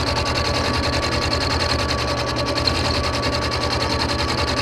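Welding on a Case 644 Terramite backhoe part gives a steady, close buzzing and crackling hum with a fast regular pulse, continuous and fairly loud with no talk.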